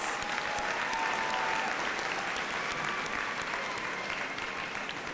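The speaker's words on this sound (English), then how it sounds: "give the undergraduate recipients in our School of Graduate Professional Studies another round of applause" Sustained audience applause at a university commencement ceremony honoring graduate professional studies recipients, a steady wash of many hands clapping, even and unbroken from start to finish.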